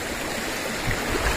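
Cold, clear river water flows below Madakalipura waterfall in East Java, a steady close rushing wash without voices.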